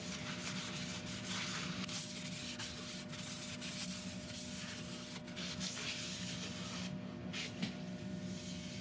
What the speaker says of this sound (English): And now we wipe off any excess grit with isopropyl.